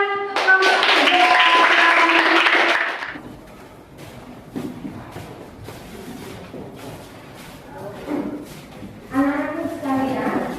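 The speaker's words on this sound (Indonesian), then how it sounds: "Tepuk tangan untuk kelompok 3." Students in a classroom clap for a presenting group after loud sung or spoken tones fade, a steady patter of hand claps running several seconds under murmuring voices.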